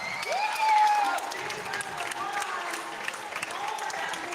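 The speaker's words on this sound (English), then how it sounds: "Crowd gets to their feet, cheering on your top athletes here in Heat 3" A crowd applauds and cheers at the 2023 CrossFit Europe Semifinal during a women's individual event, a steady wash of clapping and shouts with a short whistle-like cry near the start.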